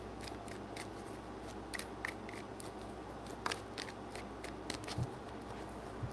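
Tarot cards are shuffled in quick, crisp riffling snaps that come in irregular bursts, faint and close, with no talking.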